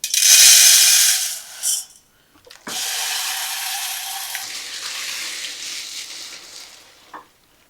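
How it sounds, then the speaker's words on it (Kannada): Water is poured onto one cup of whole urad dal in a bowl to soak for idli batter: a loud splashing pour, a short pause, then a longer, gradually softening stream with a few small clinks, no voices. "ನೋಡಿ ಇದರಲ್ಲಿ ನೀರು ಹಾಕಿ ಇಟ್ಕೊಂಡಿದ್ದಾರೆ."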